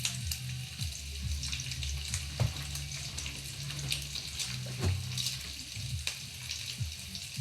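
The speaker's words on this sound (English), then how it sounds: "flipping the bacon over, you don't want to have the grease, spitting back at you" Bacon frying in a very hot pan, grease spitting with a steady crackling sizzle and sharp pops, close and continuous, with low clattering from the pan and faint background noise.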